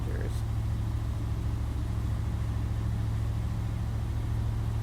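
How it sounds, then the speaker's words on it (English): A slow boat's engine drones steadily as a low, constant hum, close and unchanging throughout, with no voices over it. "The drone of the engine sucks the thought of conversation out of the air, a constant hum"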